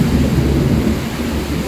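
Heavy rain roars during Typhoon Opong with a deep rumble of thunder underneath, a dense, loud, continuous wash of sound.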